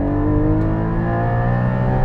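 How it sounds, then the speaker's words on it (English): Induction roar from a 2021 Porsche Cayman GT4 under acceleration: a steady, loud, droning engine note heard from inside the car, with layered harmonic tones and no talk over it. "I'm just experiencing full induction noise"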